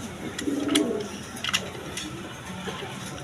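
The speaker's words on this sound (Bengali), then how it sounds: "এখানে এক পেয়ার ডেনিস কবুতর আছে দেখেন" A pair of big, show-quality Danish pigeons in a seller's loft coo in a couple of low, soft bursts near the start, with faint rustling and a few brief sharp noises around them.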